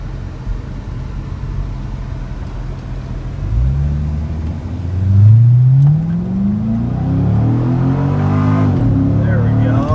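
A C6 Corvette Grand Sport in sport mode accelerates hard, its loud engine note rising in pitch through the gears after a steady idle-like drone, with voices present in the car.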